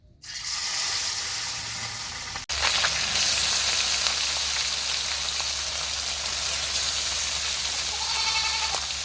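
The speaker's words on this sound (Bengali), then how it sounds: "তেল গরম হয়ে গেছে, এখন মাছ দিয়ে দিব কড়াই।" Fish slides into hot oil in a wok, a hiss that swells abruptly into a loud, dense, continuous sizzle heard up close and alone.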